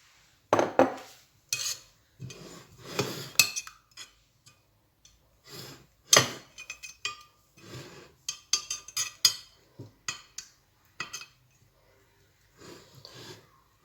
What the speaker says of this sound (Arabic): غادي نوضعوا فيه لاصوص طوماط ديالنا